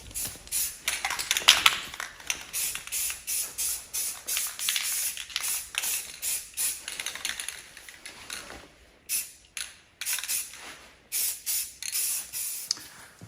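Spray paint hisses onto 1979 Honda XR500 motorcycle parts in short, repeated bursts with brief gaps, sharp and close. A few quicker puffs come near the end, with no talking.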